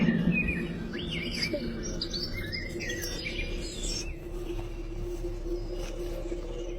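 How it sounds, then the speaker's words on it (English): Recorded birdsong and nature sounds play on repeat from hidden speakers, with steady high chirps and tweets over a continuous insect-like buzz and a low hum, moderately loud with no voices. "We started to realize all the bird and nature sounds were on repeat."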